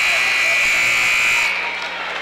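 A buzzer sounds to end the first half of a high school girls' basketball game in a gym, a loud steady electronic tone lasting about a second and a half before cutting off, with voices underneath.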